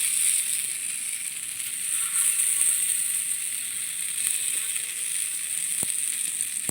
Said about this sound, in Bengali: আবার মাছগুলোকে কড়াইতে দিয়ে দিচ্ছে